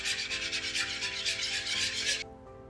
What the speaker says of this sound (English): Whisk until the starter dissolves completely.